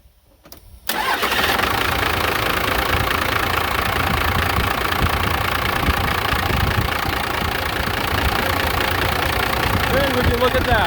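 A truck engine running on only a supercapacitor with the battery disconnected cranks briefly, catches and fires, then settles into a loud, steady, rough idle that carries on close by.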